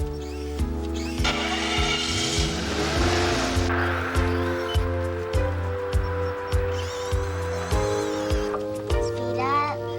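A car engine in a 1991 drama scene idles and then pulls away as the car drives off, a steady drone with rhythmic pulses while voices talk over it.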